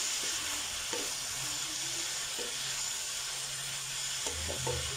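Sweetcorn samosa filling cooks in a pan with a constant hissing sizzle, broken by a few soft scraping stirs near the microphone.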